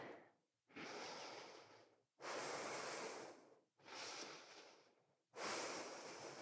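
Slow, deep breathing during a yoga backbend flow, heard as close-up breaths with about four long, even inhales and exhales in a steady rhythm, with no talking.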